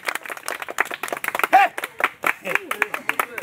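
A crowd claps for a member of parliament at a local gathering where gloves are handed over: rapid, uneven hand claps with voices talking and calling out underneath.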